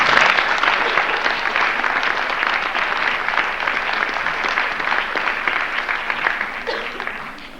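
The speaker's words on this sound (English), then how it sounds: "I'd like to see him get a nice round of applause right now." A room full of people at a winter sports awards banquet gives sustained, dense applause, loud and steady before gradually tapering off toward the end.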